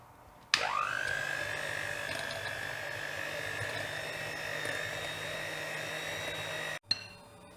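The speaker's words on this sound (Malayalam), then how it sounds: "ഞാനപ്പോൾ ഇത് ഈ ഹാൻഡ് മിക്സർ വെച്ചിട്ട് ഇവിടെ നന്നായിട്ട് മിക്സ് ചെയ്തെടുത്തിട്ടുണ്ട്" Electric hand mixer whirring through curd vada batter, switching on abruptly with a sharp rising whine, holding a steady loud buzzing drone for about six seconds, then cutting off.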